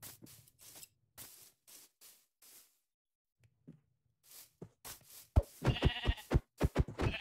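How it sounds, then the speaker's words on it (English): Several short sheep bleats from Minecraft come in bursts with gaps of silence, then a louder cluster of bleats near the end. "There's a sheep."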